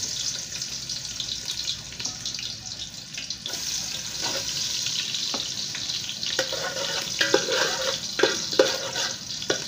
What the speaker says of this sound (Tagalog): Lagyan natin yung ating bawang guys, igigisa natin. Ginis ang bawang.